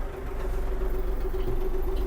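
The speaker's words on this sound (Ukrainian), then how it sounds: "Гарна робота двигуна." A Kubota GL-320 Japanese mini tractor engine idling steadily, a low continuous hum with a faint tonal drone, close and even, with no voices.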